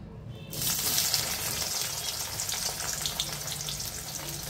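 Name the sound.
onions frying in oil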